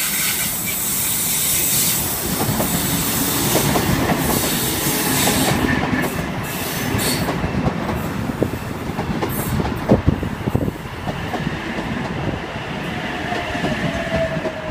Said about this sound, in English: Here we've got Oscar H28 arriving into platform 2.